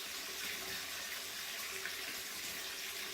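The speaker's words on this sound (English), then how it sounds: "As you turn on your bathwater" A bath tap runs steadily into a tub, a constant, even hiss of pouring water, close and unbroken throughout, with no voices.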